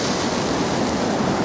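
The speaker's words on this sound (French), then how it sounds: "les vagues sont un peu hautes, je trouve" Fairly high sea waves breaking on the shore at Cannes on the French Riviera, a continuous dense rushing wash heard close and loud with no voices.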